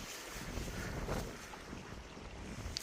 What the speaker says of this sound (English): right now, it's quite windy and it's quite cold.